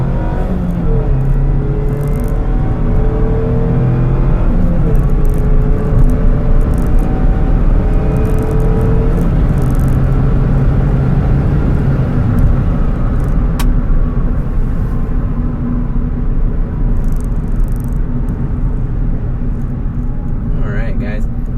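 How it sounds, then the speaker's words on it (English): A 2019 Mazda MX-5 RF Grand Touring accelerates with a steady rising engine drone and rumble heard from inside the cabin, then eases off as it brakes, with road noise throughout. "So nice smooth acceleration, nice firm braking."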